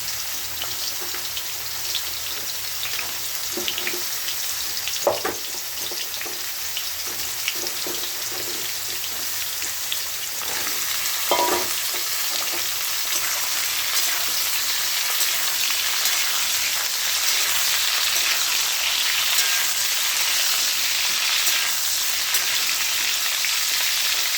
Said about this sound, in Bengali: পটলটা আগে ভালো করে ভেজে নেব।